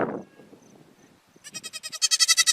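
A young goat kid that has just been dehorned bleats loudly in a quick wavering run of cries near the end, after a short rustle and a quiet stretch.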